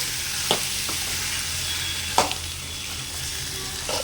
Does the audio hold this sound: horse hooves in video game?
no